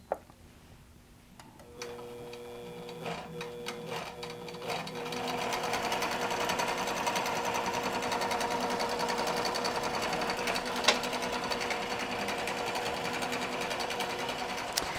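A QBOT V3 quilting machine stitches an edge-to-edge quilt, its needle running in a steady, rapid mechanical rhythm that starts after a short quiet moment and continues evenly and fairly close throughout.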